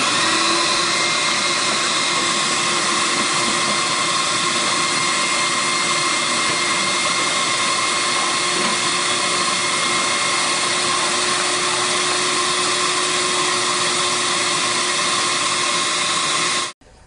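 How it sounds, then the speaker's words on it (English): Vacuum cleaner running steadily on a bathroom floor, a loud, constant whine with a strong hum that holds unbroken for about sixteen seconds before cutting off abruptly at the end. "We're ready to turn the vacuum on, and obviously that's going to drown out the sound."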